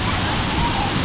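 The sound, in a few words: waterfall flowing in Bali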